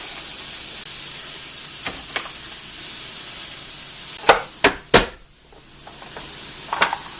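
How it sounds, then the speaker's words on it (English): Ground beef and onions fry in a pan with a steady close sizzle, broken by a few sharp scraping stirs and clinks near the middle. "we're just going to put our ground beef right down there, and we're going to start that cooking"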